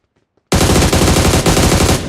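Rapid automatic fire from an AUG rifle in a video game bursts in after half a second of near silence, a loud, dense, sustained stream of shots with a brief dip around the middle.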